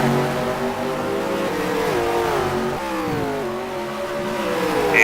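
Race car engines rev hard in a sim racing drag to the line at Barbagallo Raceway, with a loud sustained whine rising in pitch, dropping at gear shifts and climbing again.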